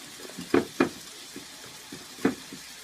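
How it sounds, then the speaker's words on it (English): Hamburger meat sizzling softly in a pan, with several clinking scrapes of a utensil stirring at irregular moments, close and moderately loud. "So my hamburger over here is frying nicely."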